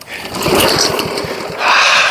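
A gasoline lawn mower engine is pulled and sputters in a loud, rapid chugging burst that fades, then sputters again briefly without catching. Nobody speaks.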